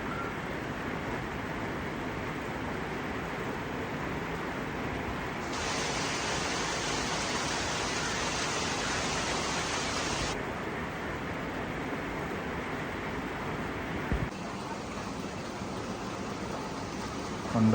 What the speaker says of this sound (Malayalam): റോഡൊക്കെ നിറഞ്ഞൊഴുകി പോവാണ്.